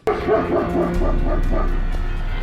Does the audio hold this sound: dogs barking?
yes